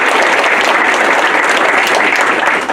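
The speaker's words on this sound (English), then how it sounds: "Please give them a round of applause." Loud, dense audience applause for students at a school board meeting, a steady wash of many hands clapping throughout with no talk.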